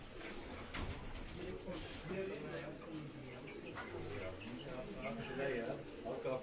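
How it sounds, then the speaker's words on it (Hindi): American wild pigeon cooing faintly in soft, repeated low calls beneath someone talking nearby. "ये अमेरिकन एक अमेरिकन पिजन है, पिजन है, वाइल्ड पिजन है अमेरिकन।"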